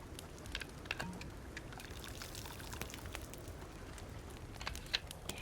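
Water poured out of a container in the survival video game Sons of the Forest, a faint continuous trickling pour with small splashy ticks, no talking.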